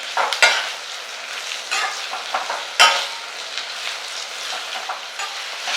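Green chillies with onion and cardamom frying slowly in a pan over a low flame, soft steady sizzle broken by repeated close scraping stirs, no voices.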